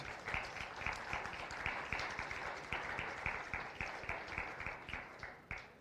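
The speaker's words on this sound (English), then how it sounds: "go ahead and give these three exhibitors a round of applause" Spectators around the ringside at a county fair swine show applaud three exhibitors, with steady overlapping claps from a modest crowd, fairly distant and even in rhythm throughout.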